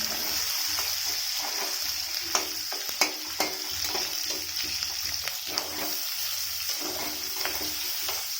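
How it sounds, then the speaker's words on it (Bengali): Sausage frying in a pan with onion, chilli and garlic hisses steadily and fairly loudly, broken by sharp clicks and scrapes of stirring, with no voices. "সসেজ ফ্রাই হচ্ছে, এর মধ্যে দিয়ে দেব পেঁয়াজ, দিয়ে দেব লঙ্কা আর রসুনটা"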